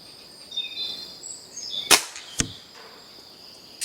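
A Stoeger XM1 air rifle fires at a target 50 to 100 meters away: two sharp cracks about half a second apart, a third fainter snap at the end, over quiet outdoor background with faint tones.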